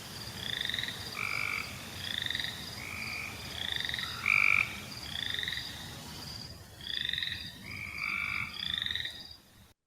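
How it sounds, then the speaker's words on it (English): A boreal chorus frog and a Cope's gray tree frog call together in a dense outdoor chorus, with repeated rising creaky trills and flat buzzy pulses over a constant background of other frogs. "that boreal chorus frog sounds like you're running your thumb over the teeth of the comb"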